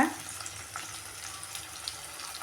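Chana dal and cumin fry with onions in a pan, giving a steady, close sizzle with soft crackles and faint stirring, no voices.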